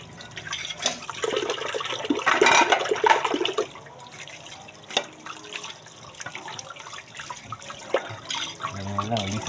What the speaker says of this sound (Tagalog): Basic lang naman yung hugas ng plato.